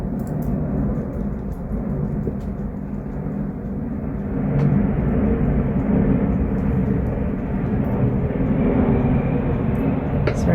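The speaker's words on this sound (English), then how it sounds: "Sorry about that plane going over." A plane passes overhead in a quiet indoor setting, a steady low broad rumble that swells slightly midway and holds loud to the end, with no talking.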